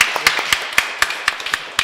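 A church congregation gives a short round of encouraging applause during a service, a burst of sharp, evenly spaced claps ringing out clearly and close.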